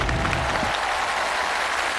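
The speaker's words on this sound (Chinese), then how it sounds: "来，我们掌声有请。" An audience on a Chinese TV recruitment show claps to welcome someone onstage, a short, even burst of crowd applause with a low rumble briefly underneath at the start.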